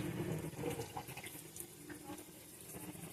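Kitchen tap water running into a sink and down the drain after cooking ground beef, a steady close hiss and splash with no talking.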